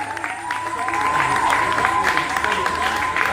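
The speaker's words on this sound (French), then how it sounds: "je vous demande encore une fois, je vous demande d'applaudir Starlène." Audience applause at a birthday party, loud sustained clapping that fills the room, with a steady tone and crowd noise mixed in throughout.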